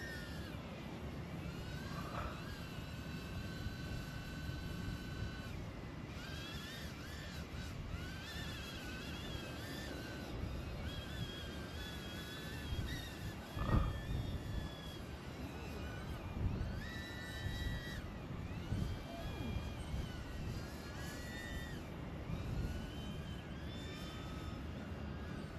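A DJI Avata drone flies outdoors in windy conditions, its steady whirring buzz filling the whole stretch at moderate loudness, with wind rumble on the microphone and a few brief louder swells.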